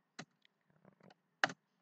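A few scattered keystrokes on a computer keyboard while code is entered, quiet and close, with a clear single tap near the start and another near the end.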